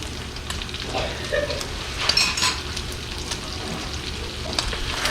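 Butter melting in a pan of cooking flour for Southern gravy gives a steady soft sizzle and crackle, with a few brighter pops and light clinks of a utensil throughout.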